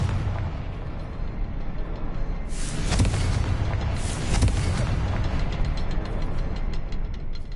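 Confringo fire spells blasting in Hogwarts Legacy: two loud bursts in quick succession over a steady low rumble, with no talk.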